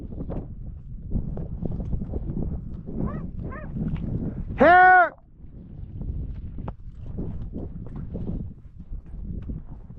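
A ranch dog gives one loud, close bark while cattle are gathered in the Nevada desert, set against steady wind and hoof noise, with a few fainter yips just before it.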